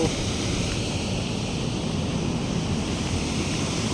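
Water rushing over Dantiwada dam makes a steady, dense roar of falling water that is constant and unbroken throughout, fairly close.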